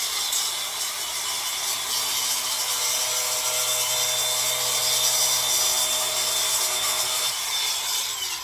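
A drill works steadily through a metal AN fitting during an RB25 engine build, a close, continuous grinding whir that holds for about eight seconds without a break.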